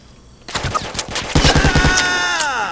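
A burst of M60 machine gun fire in the Vietnam war shooter Vietcong, loud and close: a rapid string of sharp shots ends in a ringing metallic tail after a quieter start.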